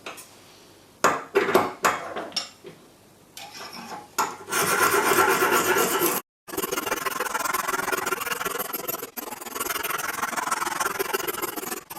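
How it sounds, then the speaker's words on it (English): Knife blade rasping on an extra coarse 70 grit Lansky sharpening stone, starting with a few short separate strokes and then moving into long, steady, loud grinding passes that pause only briefly. "this is a extra coarse stone which is 70 grit, very rough indeed, removes material very quickly"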